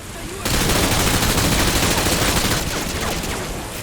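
Dense, sustained automatic gunfire from the Call of Duty: Modern Warfare 2 campaign bursts in suddenly and rattles loudly for a few seconds before easing slightly.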